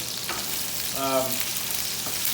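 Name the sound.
potatoes frying and being stirred in hot oil in saute pan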